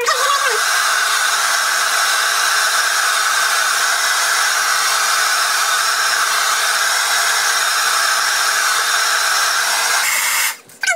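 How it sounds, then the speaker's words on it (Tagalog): A hair dryer blows continuously on thick hair, a loud, close, steady whooshing roar that lasts about ten seconds before briefly cutting out near the end. "ginagamitan ko ng blower yung aking buhok kasi kung mapapansin nyo, sobrang kapal talaga."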